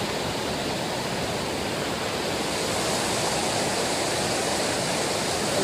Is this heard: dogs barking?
no